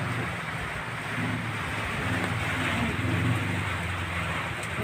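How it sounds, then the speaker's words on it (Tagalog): Heavy rain pours in a steady, dense hiss, with a low rumbling wash underneath and no voices. "Lumakas ang ulan."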